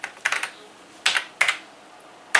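Keys clatter on an Atari ST computer keyboard as a name is typed, several distinct clusters of sharp close clicks separated by short pauses.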